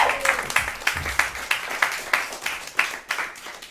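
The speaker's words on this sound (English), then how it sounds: "Round of applause, please, for Jeff Garbo." Audience applause at a panel talk on wellbeing and hospital cuts, a moderate indoor round of clapping with distinct individual claps pulsing steadily for several seconds.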